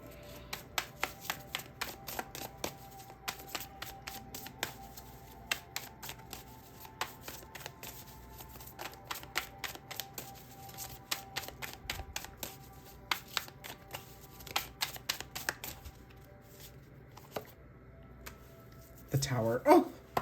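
Tarot cards being shuffled at close range, a long run of crisp riffles and taps repeating in quick irregular bursts, with a voice speaking at times and a louder rustle near the end.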